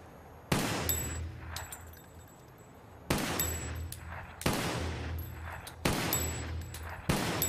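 Five sharp gunshots ring out at irregular intervals at shooting practice, each with a loud crack and a lingering echo, with a faint hum in between.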